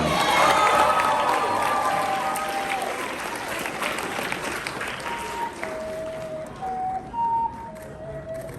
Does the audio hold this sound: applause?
yes